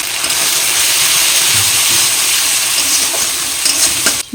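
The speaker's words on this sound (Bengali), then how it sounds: "মশলাটা তেল ছাড়া পর্যন্ত কষিয়ে নিয়েছি।" A spice paste with turmeric, salt, coriander and cumin powder fries in hot oil, giving a steady, loud, close sizzle with faint stirring scrapes and no talk.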